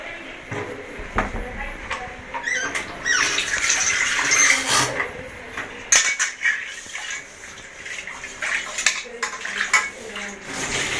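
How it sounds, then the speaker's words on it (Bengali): A wok (kadai) is rinsed under running water in a home kitchen, with splashing, metal scraping and clattering dish sounds loud and close, while people talk over the washing. "কড়াইটা একটু ধুইতে ভালো, ধুয়ে রাখছি একদম সাদা সাদা দেখা যায়।"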